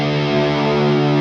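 Axe FX 3 modelling a Marshall-style amp with the master volume turned up, a short sustained distorted guitar chord, thick and bass-heavy with a buzzy, saturated edge, held loud and steady.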